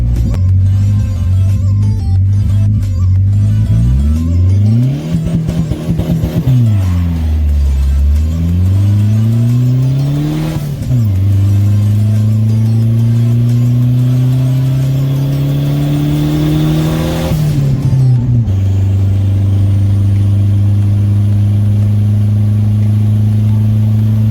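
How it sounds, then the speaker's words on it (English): Turbocharged car engine, compressor housing likely oversized, revving and building boost, loud and close throughout, pitch sweeping up and down through several pulls with no talk over it. "it's taking way too long for this engine to make boost"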